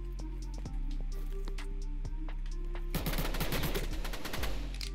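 PPSh submachine gun firing in the game Jailbird Remastered, a slow, steady stream of loud close shots that becomes a denser burst with clattering impacts near the end, over a constant low game hum.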